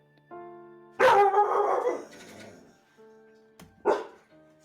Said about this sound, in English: Sounded like a dog to me.